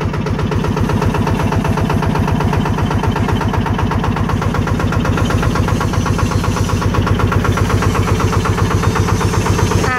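A small 16-horsepower diesel engine in a small six-wheel dump truck runs steadily at a rapid, knocking idle, loud and close, with no voices.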